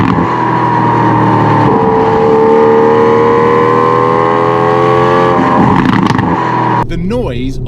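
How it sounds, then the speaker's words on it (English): Naturally aspirated 6-litre V12 of an Aston Martin V12 Vantage idling loud and close after startup, its steady rumble rising in pitch through a rev before dropping off, with someone talking over it. "The noise on startup is equivalent to a DBS, a Vanquish S, a 177, naturally aspirated 6-litre V12s for Aston"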